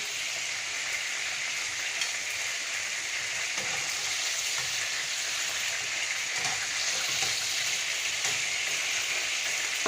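Food frying in hot oil, a steady dense crackling sizzle that holds evenly throughout at a close, moderate level with no talking over it.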